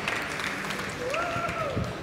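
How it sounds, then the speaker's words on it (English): Audience applause for a barista competitor named Mark at a UK barista championship, a dense, steady patter of clapping throughout, with a faint voice or tone rising over it. "Great big round of applause for Mark."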